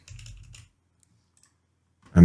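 Computer keyboard typing while coding HTML colors, a short burst of clicky keystrokes lasting about half a second, then quiet before a loud thump or voice onset at the end.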